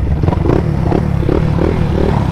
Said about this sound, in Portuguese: A moto tá com controle de largada.